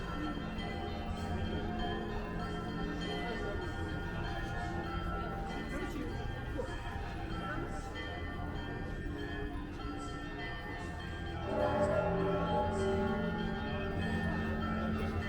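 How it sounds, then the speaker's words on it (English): Kremlin bells ring the hours near Red Square, several overlapping tolls sounding at moderate distance under crowd murmur, swelling a little louder near the end. "It's ringing the hours, so you hear all the bells right now."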